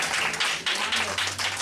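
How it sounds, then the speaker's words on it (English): An audience at an artist talk claps in a dense, steady wash of applause, close and fairly loud, with no voices standing out. "Let's give Gilbert Young another round of applause."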